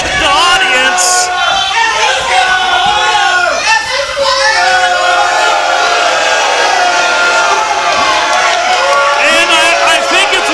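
A loud wrestling crowd cheers and whoops steadily for hometown hero All-Pro Reyno at a PCW Prospects Championship match, with children's voices and scattered claps in the dense, continuous roar.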